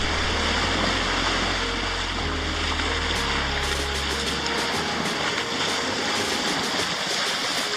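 Sailboat WildChild slicing through open ocean water at night, a steady close wash and rush of water along the hull with a low rumbling undertone throughout, no voices.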